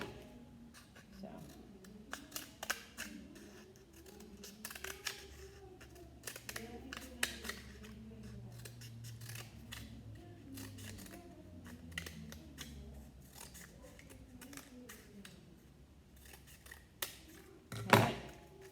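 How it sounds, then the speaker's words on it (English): Scissors snip through paper for a turkey place card, a series of quiet, irregular clicks and crisp cuts close by, with a louder snap near the end and a voice speaking softly in the background. "take your scissors, and on the 2 side wings, cut them into like a point"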